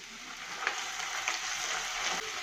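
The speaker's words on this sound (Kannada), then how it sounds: "ಕ್ಯಾಪ್ಸಿಕಮ್ ಹಾಕಿ ಫ್ರೈ ಮಾಡಿ." Capsicum and onion frying in a pan for a mushroom and paneer manchurian, a continuous close sizzle with faint stirring scrapes.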